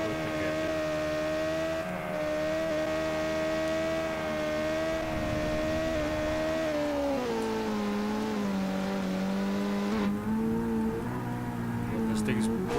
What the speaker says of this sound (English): This thing's poor little engine is struggling to get speed.